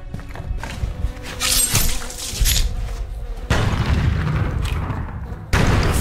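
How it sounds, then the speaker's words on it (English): Mortar shells explode in the Sniper Ghost Warrior 2 video game, a series of loud, heavy booms with crackling debris. Several blasts hit in close succession, each with a sharp onset and a long rumbling tail. "Fucking mortars. These things are getting too accurate."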